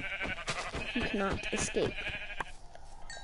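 Sheep bleat in a video game while someone talks over them and the game's menacing voice lines play. The bleats are short and wavering and come in close together, mixed in under the voices.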